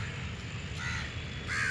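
Crows cawing near someone scattering food for them outdoors, two or three harsh calls in quick succession over a low background hum, moderately near and without talk.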